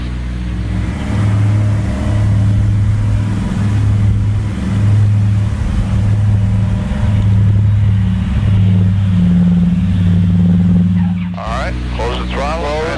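Piston engines of a Douglas DC-3 airplane droning loudly and steadily under throttle, with a pulsing low beat heard from inside the aircraft; near the end the roar drops and voices speak briefly over it.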